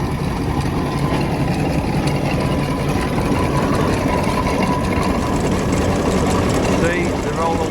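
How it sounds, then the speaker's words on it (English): A John Fowler steam ploughing engine runs as it pulls a plough across a field on steel rope, giving a steady low mechanical rumble throughout, with a voice talking over it. "This is the John Fowler engine."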